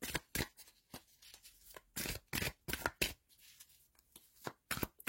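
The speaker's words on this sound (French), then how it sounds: "on va tirer une carte du tarot de Marseille pour compléter" A deck of tarot de Marseille cards is shuffled in quick, close riffling bursts, with soft flicks and pauses between the runs.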